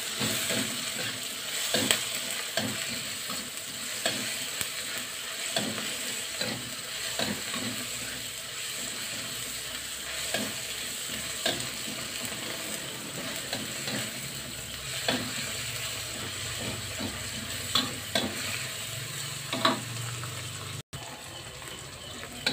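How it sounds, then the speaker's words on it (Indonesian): A spice paste is stir-fried in a pan, with steady sizzling and frying and repeated scraping strokes of a spatula at an irregular rhythm. The sound is close and moderately quiet, with no talking. "Kita masak sampai bumbunya matang."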